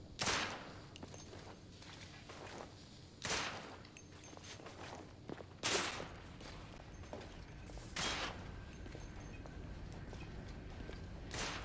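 Gunfire in the video game The Order 1886, heard as about four or five loud, sharp broadband blasts spaced a couple of seconds apart over a steady rumbling game background.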